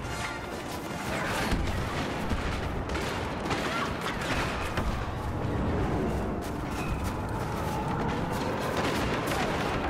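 Heavy gunfire pouring onto a walker in Star Wars Battlefront, a dense continuous barrage of blaster shots and explosions that stays steady and loud from start to finish.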